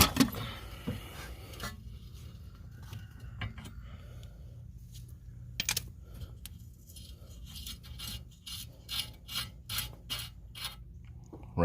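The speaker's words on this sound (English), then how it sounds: "we're just going to have to use a breaker bar and a socket." A breaker bar and socket work loose the rear spindle nut on a 2007 Scion tC, giving scattered metallic clicks and ratcheting clatter over a low background rumble, with a burst of sharper clicks near the end.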